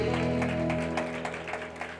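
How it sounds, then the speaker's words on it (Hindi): A church congregation claps loudly in worship, a dense wash of applause running steadily throughout over sustained organ-like musical tones. "जोर से तालियां बजाओ प्रभु यीशु मसीह की हुजूरी के लिए।"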